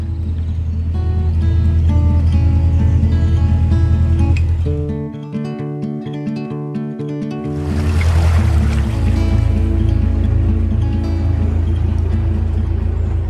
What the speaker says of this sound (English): This gorgeous old working boat still has its original Gardner engine